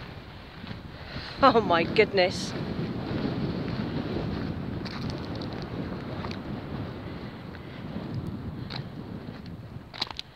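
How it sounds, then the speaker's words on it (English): Gusty wind buffets the microphone with a low roar at Dowry Reservoir on the Pennine Way, as a person speaks briefly early on amid the blustery noise. "Wow, it's windy here."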